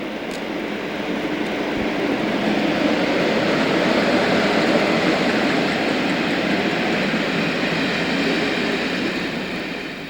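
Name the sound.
Class 47 diesel locomotive 47711 hauling CrossCountry train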